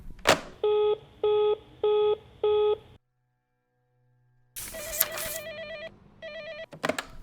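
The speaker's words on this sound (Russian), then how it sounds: "Олександр Акімов телефонує Борису Рогошкіну." An old 1980s telephone line at a nuclear power plant control room: four evenly spaced electronic ring tones, a pause of near silence, then a burst of noise and a second set of warbling ring tones ending in clicks, with no talk.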